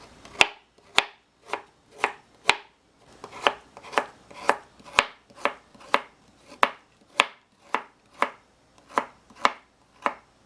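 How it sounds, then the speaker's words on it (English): A knife chops fruit for a smoothie on a cutting board in a steady rhythm of about twenty crisp, evenly spaced strikes. "slice it down, chop it up"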